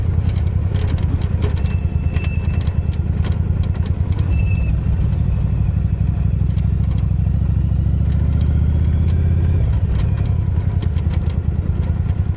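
Motorcycle ridden over a rough stretch of gravel and sand, its engine running steadily and loudly throughout with continuous rumbling, rattling and crunching from the bumpy loose surface, and no talking.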